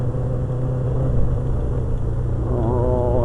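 Motorcycle engine running rough with a misfire while riding in the rain, a continuous low rumble close by with a slight rise in revs toward the end.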